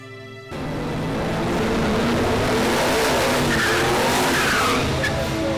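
A Chevrolet Trailblazer truck with an LS2 engine launches down a drag strip on an eighth-mile pass without nitrous, its loud engine roaring steadily with tire squeal as it accelerates. The sound stays loud and close.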